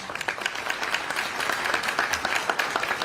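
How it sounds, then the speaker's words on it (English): Round of applause at a Republican candidate forum for the people who asked questions, a dense, even patter of many hands clapping at moderate volume throughout, without talk. "Give a round of applause for the folks asking the questions."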